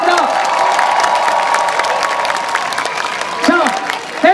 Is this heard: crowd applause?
yes